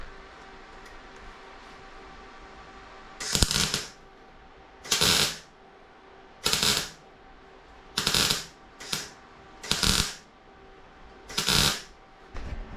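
Welding on the body of a 1978 MGB GT classic car under restoration, heard as eight short, loud, crackling bursts of a second or less, spaced a couple of seconds apart over a quiet, steady hum.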